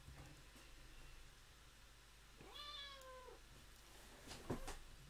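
A cat meows once, a fairly close, drawn-out call in the middle of a quiet indoor conference talk, with steady low hum and small background noises around it.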